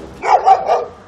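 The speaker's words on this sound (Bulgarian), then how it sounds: "Това куче прекъсна вълшебен миг между две влюбени души." A dog barks three times in quick succession, loud and close, with short rounded barks and nothing else around them.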